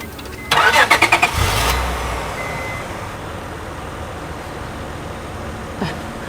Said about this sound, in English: Please, can you help me start this car?